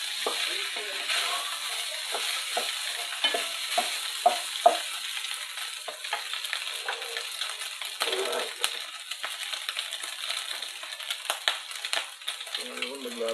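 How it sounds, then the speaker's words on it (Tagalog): Pork for bicol express stir-fries in a pan, a steady bright sizzle with repeated scraping and clinking of a utensil stirring throughout. "Sangkot pa natin, siguro mga 1 minuto pa ito."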